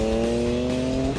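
A drag-racing car roars at a runway acceleration race, its engine holding a loud, sustained, strongly pitched note through the whole stretch, with a brief shift near the end. No voices are heard.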